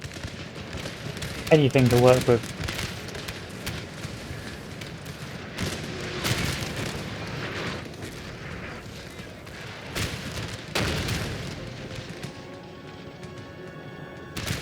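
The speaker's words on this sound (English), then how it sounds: "Come on, cannons, give me something." Cannon artillery in the Napoleon Total War video game, scattered deep booms at irregular intervals over a steady battlefield rumble, with someone talking briefly near the start.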